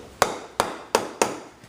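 A dead blow hammer filled with shot taps parts together during assembly, four sharp, evenly spaced knocks close up, each with a short decay, followed by a fainter fifth tap.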